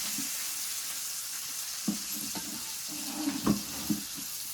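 Pomfret fish fries in a pan over a wood-fired stove, giving a steady close sizzle with a few soft clicks and knocks from handling, and no voice present.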